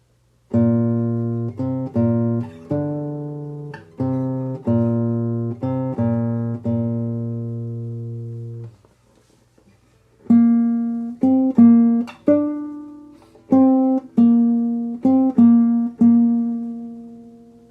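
Single guitar notes plucked one at a time on the fifth string in a slow melodic phrase, each ringing briefly, with a short pause midway before the line repeats.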